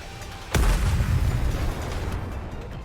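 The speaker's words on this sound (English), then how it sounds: "The missiles have no homing ability. It's just firing wildly!" Missiles firing wildly and exploding in a video game cutscene, a sudden loud blast followed by a rolling, rumbling roar that slowly fades away.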